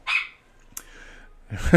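Dogs bark in a few short, close, sharp bursts with brief gaps between them, and the last bark is the loudest.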